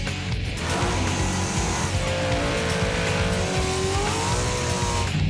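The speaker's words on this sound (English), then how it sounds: "Burning rubber is always a big thing to me." A hot rod revving hard during a burnout as its tires squeal in a long, rising screech, loud and close, with engine roar underneath.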